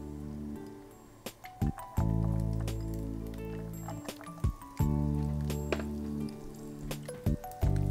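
Coconut pieces sizzle in hot coconut oil, with the mussel (kallumakkaya) fry nearby, giving a steady loud crackling fry broken by sharp clinks and taps of a utensil against the pan; no speech.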